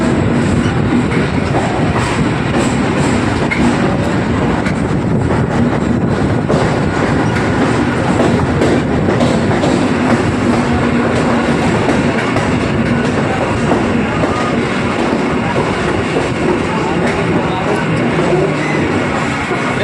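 A Kolkata circular railway train runs along the track with a loud, continuous rumble and rhythmic clickety-clack of wheels, heard from on board, with faint voices mixed in beneath the noise.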